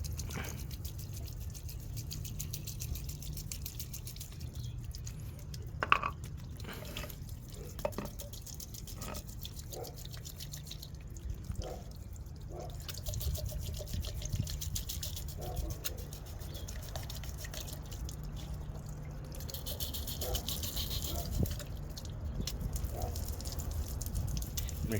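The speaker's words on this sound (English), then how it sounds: "And let's run some water through this." Water from a garden hose runs through an HVLP gravity-feed air spray gun, giving a steady low hiss with scattered patter and drips, and no talking.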